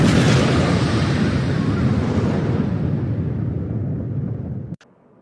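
A bomb explosion sound effect, evoking a thrown bomb bursting in an assembly hall, starts loud and fills out into a broad rumbling roar, then trails off for several seconds before cutting out sharply at the end.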